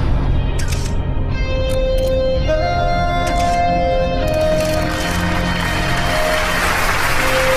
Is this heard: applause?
yes